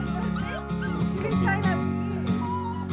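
Small dog yipping and whimpering repeatedly aboard the boat Mood Swings during maintenance before slipping, close and fairly loud, mixed with steady boat noise and other sounds.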